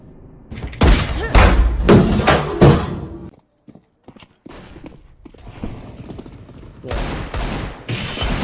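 Gunfire in an online video game comes in dense, loud bursts of rapid shots. A near-silent gap falls in the middle before another volley erupts near the end.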